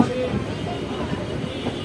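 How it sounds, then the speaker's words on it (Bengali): 13011 Howrah–Malda Town Intercity Express entering Bandel Junction, a moderate steady rolling rumble with faint clatter throughout. "আমাদের ট্রেন এখন ঢুকছে ব্যান্ডেল জংশন রেল স্টেশন"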